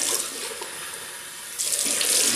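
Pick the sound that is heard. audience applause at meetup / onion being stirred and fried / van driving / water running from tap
water running from tap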